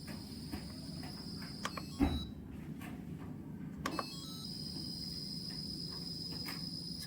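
A faulty Yongma rice cooker gives off a steady faint hiss with a thin, high cricket-like chirping running through it, interrupted by a couple of soft clicks and knocks.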